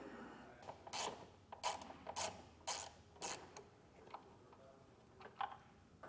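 A ratchet works a T30 bolt on a 2024 Jeep Grand Cherokee, giving quick bursts of sharp clicking close up. A run of rhythmic strokes comes first, then a few fainter, scattered clicks follow in a quiet space.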